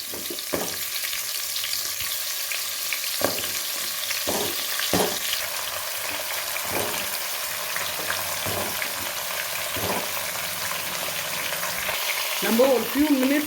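Grated carrots sizzle in ghee while being stirred, with a constant frying hiss broken by regular spoon scrapes and knocks against the pan and a brief noise near the end.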